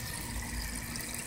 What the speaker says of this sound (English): Okay, we're just letting the water drain out.